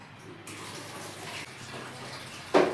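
A child plays with running water in a home bathroom, a steady faucet-like splash and gush close by, with a sharp splash near the end and no talk.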